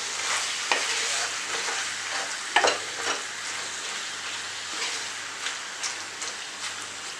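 Chicken for chicken chukka frying in a pan in its own released juices with no water added: a continuous close sizzle broken by scraping and stirring clatters from a utensil, with no voices.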